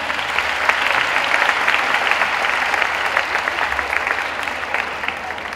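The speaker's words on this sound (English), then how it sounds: "So a big round of applause for the students." Sustained applause from a sizable crowd, steady and fairly loud throughout, with dense clapping and no pauses.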